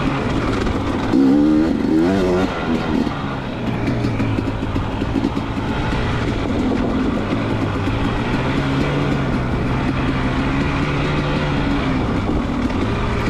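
A dirt bike races lap 1 of the 2023 OMRA Clarks Branch GP in the 40ex class, its engine close and loud, droning and rising and falling in pitch through continuous revving and shifting for the whole stretch.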